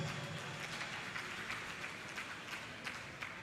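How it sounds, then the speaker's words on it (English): Steady applause from an audience at an international conference, honoring students, dense and continuous clapping throughout at moderate distance. "Can we have a round of applause for our students?"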